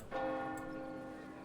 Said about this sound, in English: Until the distant bells chimed, as if declaring or beckoning.